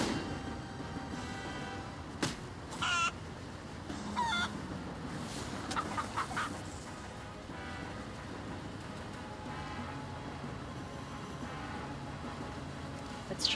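Bird-flock attack ability in a World of Warcraft pet battle, heard as a few brief honking, goose-like squawks and flutters over steady game background noise, with no talk.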